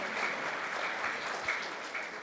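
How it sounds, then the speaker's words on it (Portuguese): An audience at a Spiritist conference round-table claps in steady, dense applause that stays even and full throughout. "Uma salva de palmas a eles também"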